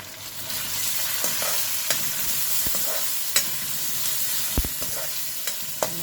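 Ginger, green chillies, curry leaves and spices fry in a pan for a sweet-sour pumpkin curry, giving a close, steady sizzle. A few sharp clicks and scrapes from a stirring spoon come through, and no one speaks.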